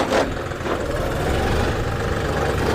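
A John Deere 5210 Gear Pro 4WD 50 hp tractor runs in B gear with a steady, close, low diesel rumble that holds at an even level for the whole stretch.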